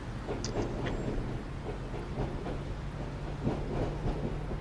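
A class 153 diesel train rolls past in the Train Simulator game, a quiet, steady low rumble with soft rhythmic clicks from the rails and faint brief high squeals.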